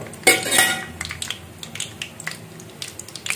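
Spoon stirring rice tempering in a pan, giving a few sharp metallic scrapes and clinks early, then a run of lighter irregular taps and scrapes, close and clear with no talking.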